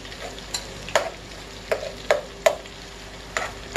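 Chorizo fries and browns in a pan for frijoles puercos, a soft sizzle broken by several sharp scraping stirs at irregular intervals.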